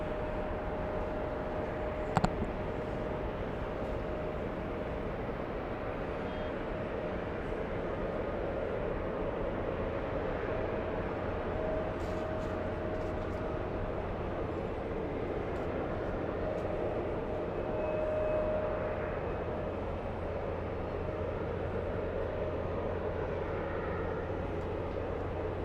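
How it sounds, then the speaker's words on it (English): A heavy Airbus A330 airliner arriving at JFK airport, heard as a steady, distant broadband roar with a faint whine holding throughout, no voices. "World's longest flight has just arrived. That's the world's longest flight. Heavy A330"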